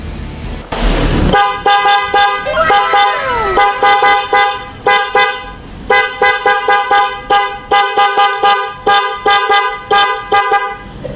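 Loud, bright big horn on a Honda Click motor scooter honking close by in a rapid, stuttering pattern of short toots and longer blasts, repeated over and over with brief gaps.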